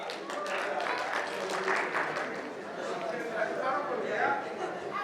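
Audience applause at a university mother-language day cultural program, a moderate wash of clapping with crowd chatter mixed in and a voice speaking over it.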